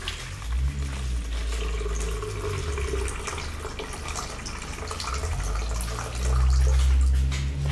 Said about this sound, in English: We are going to put in here 13 ounces of water.